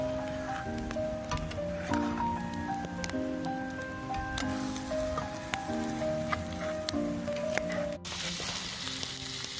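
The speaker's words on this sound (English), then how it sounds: "We're making some potatoes here. Got them chopped up and boiling." Chopped potatoes boiling in beer at a hunting camp, a steady crackling sizzle of cooking liquid running throughout, close and fairly loud, with faint clatters and a brief knock near the end.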